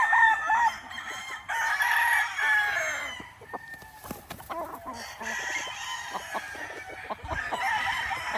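A gamecock stag crows loudly and close at a game farm, the long hoarse call repeating over several seconds amid other roosters and clucking fowl nearby.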